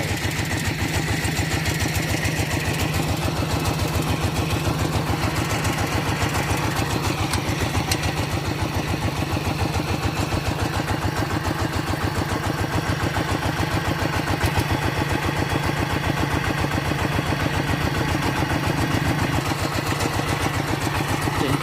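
A tractor engine chugs steadily throughout, a rhythmic low rumble with rattling clatter, close and loud, no voices.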